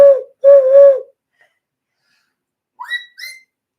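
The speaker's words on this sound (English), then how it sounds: "You want to hear my hand whistle?" A loud hand whistle: two close hoot-like tones, then a pause, then two shorter rising whistled notes, owl-like and clear in a quiet room.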